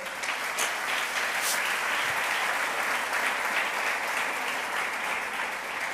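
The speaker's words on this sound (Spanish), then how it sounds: "Aplaude al Señor, por favor." Steady, dense applause from a church congregation during a Spanish-language sermon, a continuous wash of many hands clapping at fairly close range with no pauses, holding at an even level throughout.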